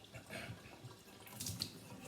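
Water drains from a Pure Water Aqua Clean MD-4 home distiller, a quiet trickling and dripping flow, faint and close, with a brief splashier burst near the end.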